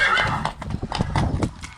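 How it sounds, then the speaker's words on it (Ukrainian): Two mares brought to a farm for breeding, heard as a mix of close hoof clops and a neigh amid busy background noise, with faint voices nearby. "зараз приїдуть дві кобилі на паровку"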